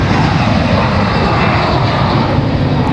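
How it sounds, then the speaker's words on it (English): A Delta Embraer E175 jet departs from Raleigh-Durham airport with a loud, steady engine roar that fills the whole clip. There is no talk. "Delta E175, getting a move on, getting out of here."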